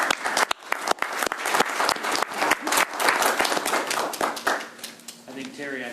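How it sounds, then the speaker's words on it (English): An audience claps in a burst of applause at a school recycling recognition event, sharp individual claps thickening into dense applause that fades out toward the end, with a voice beginning to speak as it dies down. "Let's give them a round of applause."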